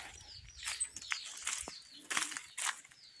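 Small birds chirp in fruit trees, among them soursop and tamarind, giving quick bright tweets and short calls in scattered bursts, fairly close, with a faint flutter and no talk.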